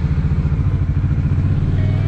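Several motorcycles, among them a Royal Enfield Classic 350, a KTM Adventure 390 and a Bajaj Dominar, idle together before dawn at the start of a long Kolkata-to-Siliguri ride, giving a steady, close, throbbing low engine rumble.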